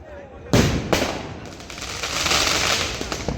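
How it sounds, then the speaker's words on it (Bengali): Fireworks and firecrackers bursting on New Year's Eve, sharp loud cracks followed by a dense crackling barrage nearby, with a voice talking over them. "চারিদিকে শুধু সেল আর বাজি ফাটছে"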